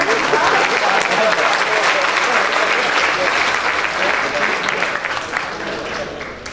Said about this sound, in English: let's have one more round of applause for all our esteemed professors on stage